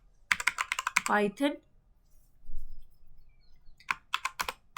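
Code typed on a computer keyboard during a Python strings lesson, with quick bursts of close key clicks at the start and end and a stretch of talk in between.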